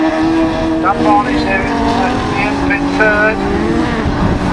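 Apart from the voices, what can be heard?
autograss racing cars in the Class 7 final at Nottingham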